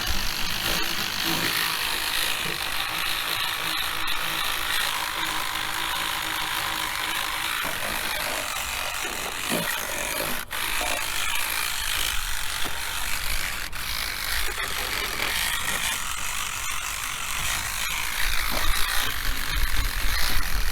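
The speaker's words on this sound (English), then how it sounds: "Then we'll get our Sonax scrubber in action." Sonax scrubber brush scrubbing around bolt heads in an Audi S4 engine bay, a dense continuous scratchy bristle scrubbing that stays loud and close throughout.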